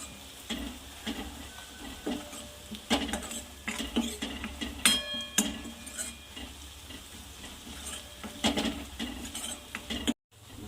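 Savji masala is stirred in a pan with a spoon scraping and clinking against the metal while oil sizzles steadily underneath, the scrapes coming in irregular bursts close by and with no voices.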